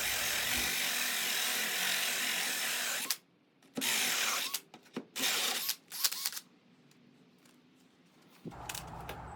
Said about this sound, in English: grab my hole saw, pop it in my drill